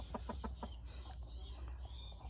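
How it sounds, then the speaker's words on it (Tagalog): A hen with newly hatched chicks gives four quick, evenly spaced clucks, followed by fainter scattered peeps and rustling. All of it sits under a steady, low outdoor hum. "ako ipakita sa inyo guys ang amo ang bag-ong namiso nga manok"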